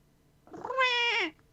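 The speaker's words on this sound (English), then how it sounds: "you do hear behind you the cat" A single loud cat meow played as a game sound effect in a tabletop fantasy setting, rising then falling in pitch, clear and close, alone without talk.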